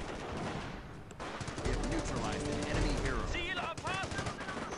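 Rapid bursts of machine gun fire in Company of Heroes with heavy booms and clattering, dense and continuous, with game effects and a voice mixed in.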